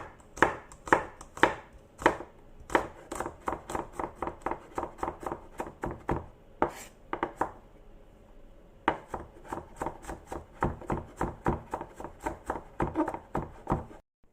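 A knife chops garlic on a board for Chinese-style bitter gourd, with quick, sharp, crisp strikes in steady runs and one short pause, close and clear with no voices.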